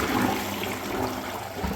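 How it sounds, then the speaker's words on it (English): A flushing toilet, locally called a dunny, in a new home's bathroom with blocked plumbing and a clogged basin, rushes in a steady, moderately loud wash of water with no voices. "We'll give the dunny a flush and see how she goes."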